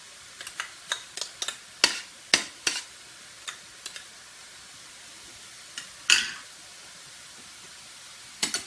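Minced garlic sautéing with meat and tomato in a pan, with a soft steady sizzle under a series of sharp wooden-spoon taps and clacks that come in quick clusters, then pause, then return.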